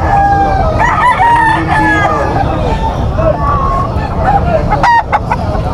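Young roosters (stags) crow repeatedly at a busy poultry and pet market, several overlapping crows ringing out nearby over a steady crowd babble with people talking.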